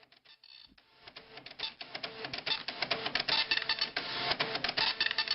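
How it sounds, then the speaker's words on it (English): Old Epson dot matrix printer at work in an office, rapid buzzing rasps of the print head repeating in quick bursts with small mechanical clicks, steady and fairly close. "the sounds of the old Epson dot matrix, they were there"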